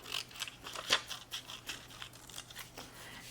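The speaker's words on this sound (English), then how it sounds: "Cut that on the black line." Scissors snipping through paper along a drawn line, a run of quick crisp cuts repeating every few tenths of a second at close range, one especially sharp snip near the middle, no voices.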